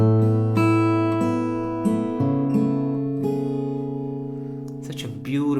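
An acoustic guitar plays a slow chord progression as ringing arpeggios, each note sustaining and overlapping, with a new chord plucked about every second and a brief scrape near the end.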